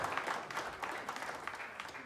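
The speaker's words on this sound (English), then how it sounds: "Round of applause." Short burst of quiet applause from a small audience at a live creative workshop event, faint and somewhat distant throughout.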